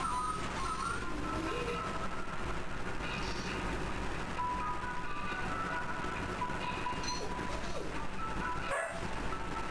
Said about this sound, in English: That's a bark.